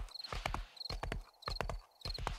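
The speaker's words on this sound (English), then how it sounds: "The horse does not like to go that way." Horse hooves clip-clopping in the video game 7 Days to Die, Wild West mod, in three quick clustered bursts of steps with short gaps, loud and close with no talk over them.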